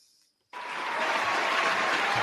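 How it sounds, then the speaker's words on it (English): Audience applause for a person named Tyler at a high school event, starting abruptly after a brief quiet moment and swelling into steady, dense clapping that holds strong to the end. "Can I get an applause for Tyler?"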